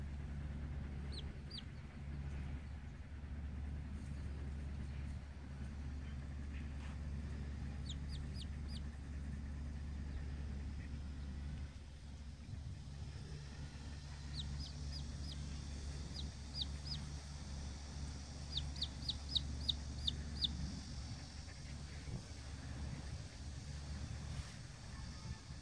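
Chickens cluck and chirp in short, high bursts over a constant low engine-like hum, fairly quiet and a little distant.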